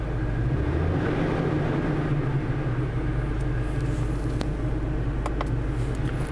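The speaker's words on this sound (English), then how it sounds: "we're going to listen to the rev changes from inside of the truck." A 2018 Toyota Tacoma pickup engine rumbles steadily from inside the cab at about 2000 rpm, a low constant drone with faint higher noises and occasional small clicks.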